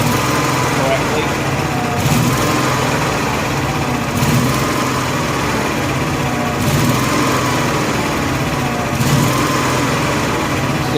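Honda gas-powered AEC welder generator engine with a fuel delivery fault, running steadily at close range with a continuous hum and faint periodic surges every couple of seconds; a voice speaks over it.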